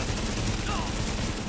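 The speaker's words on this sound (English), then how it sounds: "And this AK, though, is beast." An AK assault rifle fires in Tom Clancy's The Division in a dense, sustained burst of rapid gunfire that fills the whole moment amid game noise.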